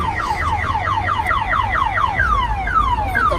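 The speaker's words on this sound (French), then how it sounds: "Bienvenue, les alarmes à 10 balles de chez Costco." A cheap Costco alarm blares nonstop, a loud electronic siren sweeping downward in fast repeated whoops that gradually stretch into longer falling tones over a low background rumble.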